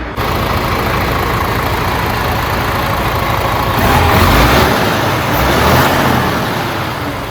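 A DAF CF85 truck engine runs after a manifold gasket repair, a loud steady idle rumble close by that swells briefly midway as if revved, then settles back.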